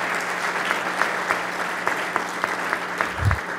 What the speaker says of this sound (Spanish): Aplausos para ellas